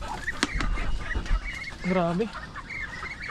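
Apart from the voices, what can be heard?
ducks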